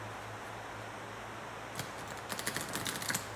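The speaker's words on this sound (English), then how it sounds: "Shuffling for a card from there." Oracle cards from a Witch's Oracle deck being shuffled, heard as soft, quiet papery flicks and taps that begin partway through and grow denser over a low steady room hum, with no talking.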